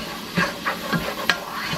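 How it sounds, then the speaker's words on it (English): Onion sautés in a pan with a soft, continuous sizzle and hiss, broken by a few light stirring scrapes. "just going to saute this up just for a minute or two until the onion becomes translucent"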